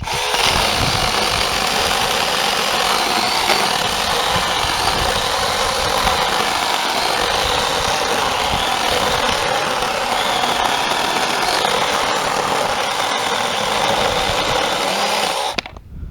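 A Chinese-made pole saw cuts through a tree branch with no pressure applied, giving a steady, loud motor whine and cutting noise that runs unbroken for the whole stretch and stops abruptly at the end.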